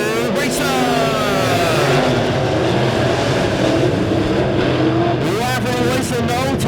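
A field of dirt track modified race cars roars off the start of a heat race at Springfield Raceway, with loud layered engines rising and falling in pitch as they pass close by, under speech.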